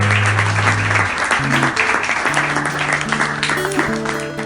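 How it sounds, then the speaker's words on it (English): An audience claps hands together in a steady, dense round of applause that lasts several seconds at close range, over a faint sustained tonal background. "Let's clap hands for her"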